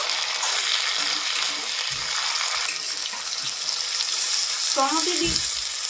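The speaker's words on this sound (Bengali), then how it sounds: "টমেটোটা দিয়ে একটুখানি ভাজা ভাজা করে নেব।" Chopped tomatoes hit hot oil with fried onion and garlic in a pan, giving a steady close sizzle throughout, with a brief clank of a utensil stirring near the end.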